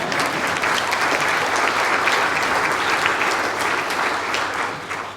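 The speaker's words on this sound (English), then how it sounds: "You can clap on that." Steady applause from the audience at a county executive's budget address, dense clapping that holds at full strength for about five seconds before easing slightly at the end.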